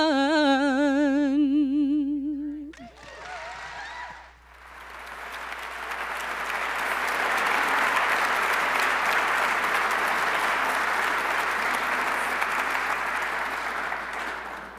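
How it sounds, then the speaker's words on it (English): Enthusiastic audience applause fills a hall at a mayor's 2024 State of the City address, rising after a sung passage ends and holding as a dense, sustained clapping roar with no talk. "So let's give another round of applause to our color guard, Pania Zhong and Monique Blakey."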